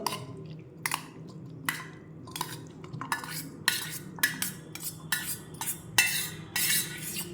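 Boiled potatoes being mixed with spices and peas in a bowl by a spoon, giving a steady run of clinks, scrapes and soft squishes at close range with no talking.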